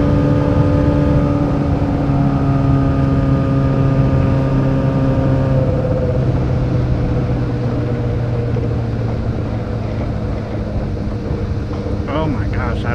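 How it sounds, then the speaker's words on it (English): Yamaha R6 sport motorcycle on a test ride, its engine humming loud and steady close by with shifting tones and wind roar, refusing to go past third gear. "this bike won't go past third gear"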